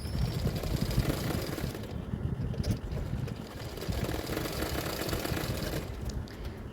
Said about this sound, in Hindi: सिर्फ अस्तर का फैब्रिक में सिलाई करना है।